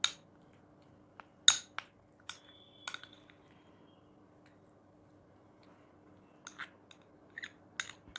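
Curd hair mask stirred in a bowl, sparse faint clinks and taps of a utensil against the bowl with quiet gaps between them, close and soft.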